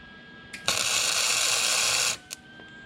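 A welder tack-welds a part on a Honda motorcycle conversion: a short pop, then a steady, harsh electric buzz that holds for about a second and a half, ending with another quick crackle in a quiet workshop.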